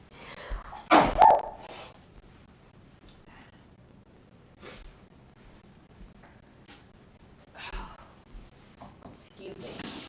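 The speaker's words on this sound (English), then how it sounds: "Excuse me. Sneezing." A single sharp, close sneeze bursts out near the start, followed by quiet room sound and a few faint breaths and shuffles.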